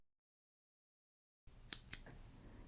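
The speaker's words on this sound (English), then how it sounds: "I'm just going to snip" Two quick, crisp scissor snips cutting a crocheted yarn end, close and quiet after a moment of silence, followed by faint handling rustle.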